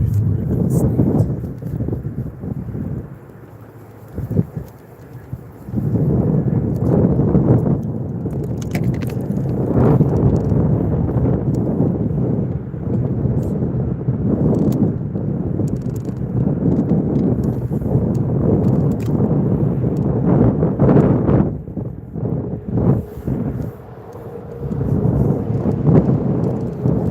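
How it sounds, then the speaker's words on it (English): Wind gusts rumble and buffet the microphone during a fishing outing on the water, a loud, sustained low roar that swells and eases across the whole stretch, with no clear talk. "Figures the wind turns directions."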